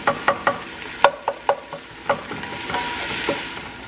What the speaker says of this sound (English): I just try and smash it with a spoon a little bit more as it's cooking and as it's getting softer